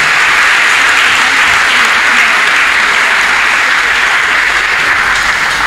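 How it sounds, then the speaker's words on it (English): A church congregation at a prophecy and healing service claps together in loud, sustained applause that runs unbroken from start to finish. "you clap more than that"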